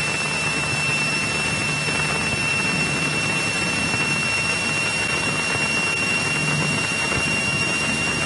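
A Cessna 172 engine roars steadily at full power during the takeoff roll, a constant loud drone with a sustained whine, with no speech.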